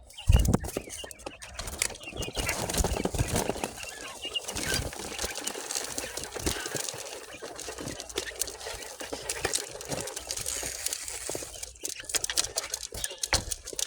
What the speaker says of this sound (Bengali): কয়েল পাখিগুলো আদার খাচ্ছে, দেখতেছেন কি সুন্দরভাবে আদার খাচ্ছে